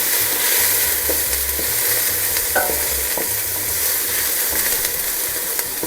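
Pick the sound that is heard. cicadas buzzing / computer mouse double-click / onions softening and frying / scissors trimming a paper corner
onions softening and frying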